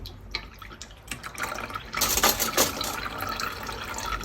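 Freshly made lemonade runs and trickles through a strainer to remove the pulp, a soft, close splashing that swells louder midway and continues briefly.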